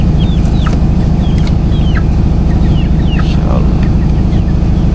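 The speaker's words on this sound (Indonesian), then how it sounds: "Bah, ayam-ayamnya Abahnya nih." Village chickens cluck and squawk around a rural house, with several short calls rising over a loud, steady background noise and nearby voices talking.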